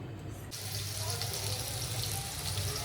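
Water is poured onto soaked peanuts in a home kitchen, a soft, steady splashing hiss that starts abruptly and runs on quietly, with faint speech underneath.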